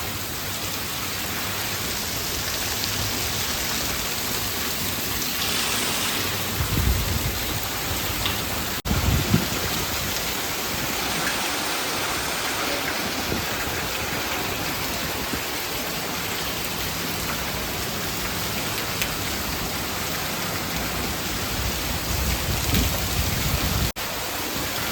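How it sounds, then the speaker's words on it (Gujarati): Heavy rain pours down nonstop on a farm during a sudden windstorm with lightning, a loud, dense roar of drops on surfaces that fills the whole stretch, with faint low rumbles of thunder beneath. "એટલો વરસાદ ચાલુ છે"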